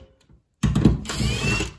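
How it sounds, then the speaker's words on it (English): Under a car, tools work loose the cross member bolts: a quiet click, a pause, then a sudden loud mechanical whirr of about a second that rattles and fades. "Pulling the cross member bolts out."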